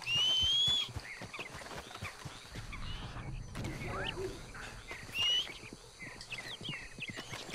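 A horse in the Red Dead Redemption II video game walks with distinct clip-clopping hooves and creaking tack, nearby and moderately loud, punctuated by whinnying calls and mechanical rattles, with no talking over it.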